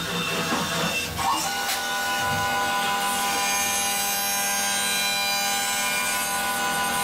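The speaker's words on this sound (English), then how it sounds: "This is just a facing pass." A milling machine takes a dry facing pass across a metal blank without coolant, producing a continuous loud grinding, hissing cut with a steady whine that holds without a break.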